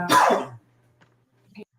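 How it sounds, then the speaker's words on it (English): A single sharp, close cough, followed by near silence with a couple of faint small noises. "and he coughs and distracts her"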